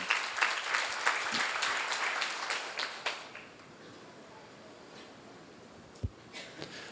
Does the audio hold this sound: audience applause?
yes